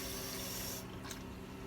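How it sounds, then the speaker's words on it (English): Cold water runs from a faucet into a closed sink with a steady, close hiss of flowing water. The hiss drops off sharply partway through, leaving a quieter trickle. "We're gonna turn on our cold water, and then we're gonna turn the faucet on."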